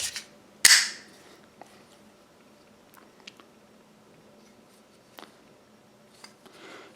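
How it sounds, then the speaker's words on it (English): Magazine smacked into a Czechoslovakian CZ 50 (vz. 50) pistol, one sharp, loud metallic slap near the start, followed by quieter small clicks and handling noises. "So sometimes you gotta give a good smack, get that magazine in place."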